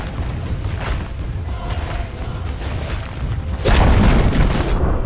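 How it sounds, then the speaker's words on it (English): A tower collapses in Dota 2, a dense rumbling crash with a heavy booming burst near the end over ongoing game noise. "Dire's top tower has fallen."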